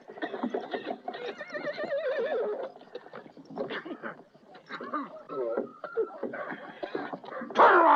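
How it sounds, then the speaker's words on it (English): A horse whinnies loudly and close, its wavering neighs repeating over several seconds with snorts and shuffling between them, in a 1973 Western film scene. "Jack, I found a horse."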